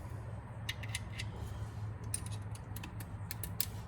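A socket wrench ratchets on the oil drain plug of a Polaris Ranger 1000XP, giving short bursts of quick, close clicking over a low steady hum.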